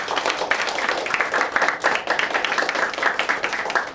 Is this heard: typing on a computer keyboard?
no